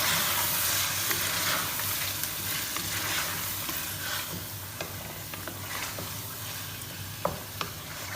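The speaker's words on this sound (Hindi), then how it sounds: "पालक ऐड करने के बाद इसको हम करेंगे अच्छी तरह से मिक्स" Boiled, blended spinach is stirred into meat in a pot for palak gosht, a steady sizzling fry with soft scraping spoon strokes and a few light clicks, close and unaccompanied by voices.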